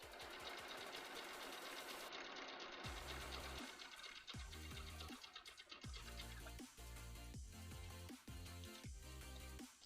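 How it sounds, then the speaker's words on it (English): A sewing machine runs close and loud in bursts, its rapid mechanical stitching clatter speeding up and stopping several times in a busy, rhythmic pattern. "You got this, sewing machine."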